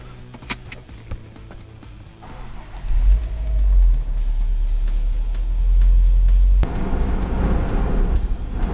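A Subaru WRX STI Type RA idles and rolls toward pit lane in damp conditions, its engine a deep, close rumble that swells with a couple of revs partway through; no one speaks.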